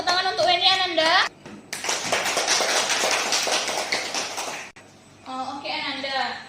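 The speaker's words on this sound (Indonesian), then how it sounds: "Kasih tepuk tangan untuk Weni Ananda." A class of children claps together for a classmate named Weni in a school lesson, a dense burst of hand claps lasting a few seconds, framed by an adult teacher's voice before and after.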